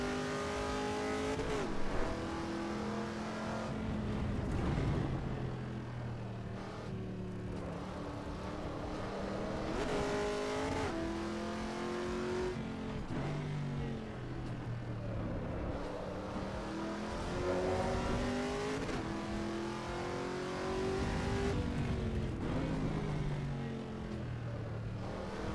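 Race car engine heard from the cockpit interior in Assetto Corsa Evo, revving up and down through repeated gear changes with rising and falling whine, steady and close, no talk.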